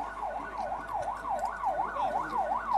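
An ambulance siren from the Ghana Ambulance Service sounds during a live emergency demonstration. It wails up and down in steady, even sweeps, continuous and fairly loud, with no voices over it.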